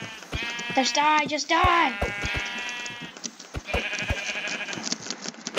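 Sheep in Minecraft give several wavering, nasal bleats, loud and close, between sharp hit sounds as a player talks over them.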